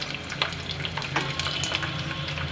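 Garlic frying in a pan of hot oil: a steady, moderately quiet sizzle with small crackles and an occasional stirring sound, and no voices.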